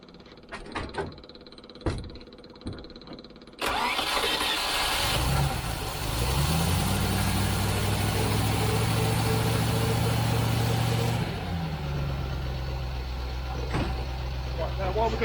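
A Range Rover engine cranks and settles into a steady idle around 900 RPM, preceded by a few knocks and clatter, with the low running hum continuing before easing off near the end; voices are heard alongside.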